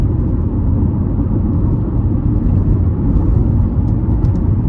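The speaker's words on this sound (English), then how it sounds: "And road noise isn't terrible" Steady low road rumble fills the cabin of a 2004 Honda CR-V with a 2.4-litre four-cylinder engine while it drives, with an even drone and no voices.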